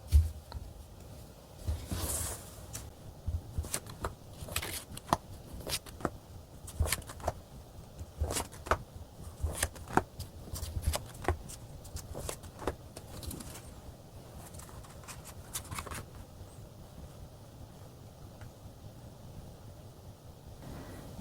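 Tarot cards being drawn and shuffled at a table, faint soft slaps and brushing papery flicks scattered irregularly, close and quiet with no talking.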